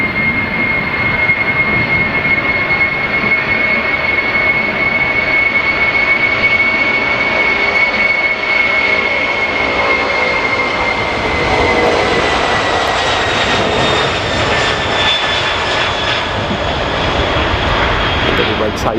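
Boeing 747 jumbo jet at Stansted Airport, London, its loud engine roar filling the air continuously and gradually shifting in pitch as the aircraft moves past, with no voices over it.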